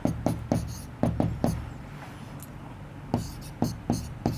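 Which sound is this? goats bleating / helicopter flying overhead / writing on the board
writing on the board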